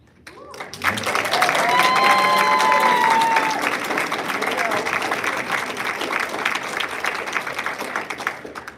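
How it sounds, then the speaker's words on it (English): An audience at a 2022 high school graduation at SPIRE Institute and Academy claps for the class of 2022. The applause swells in quickly after a short quiet start and stays dense and loud, easing slightly toward the end. "One more round of applause for our class of 2022."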